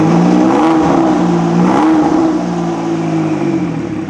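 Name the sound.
sports car engine revving with turbos whistling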